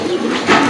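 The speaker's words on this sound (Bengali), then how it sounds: "অনেক ভালো ডাকে কবুতরগুলো।" Coca pigeons give a short, close, soft throaty coo that swells slightly near the end.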